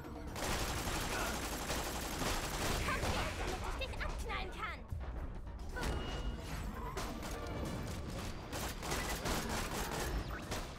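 Rapid bursts of gunfire in the video game Borderlands 2 crackle almost nonstop over a dense, busy background, with a brief lull midway before the shooting resumes.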